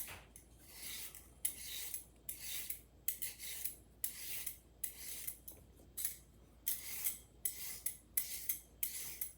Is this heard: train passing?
no